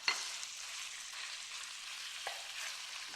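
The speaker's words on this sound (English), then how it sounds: "It's like searing, it's like sizzling away." Chicken searing in a very hot pan, a steady bright hiss of sizzling with a couple of faint pops and clicks, close and continuous with no voices.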